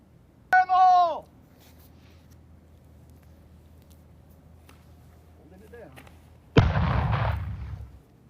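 A live grenade, a practice bomb and an artillery fuse are detonated, producing two distant explosions separated by a long pause, and each blast trails off in a rumbling echo.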